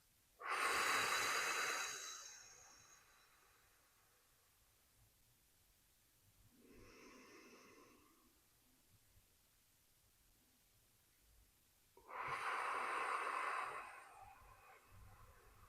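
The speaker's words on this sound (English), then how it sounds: "out through your mouth like you're blowing through a straw" Slow, deliberate breaths drawn in through the nose and blown out through pursed lips as if through a straw, three soft airy exhalations spaced several seconds apart in a quiet room.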